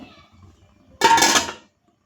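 A lid set down on a cooking pot of methi dal curry gives one short, close clatter of metal that rings briefly before cutting off, following a few seconds of quiet room sound.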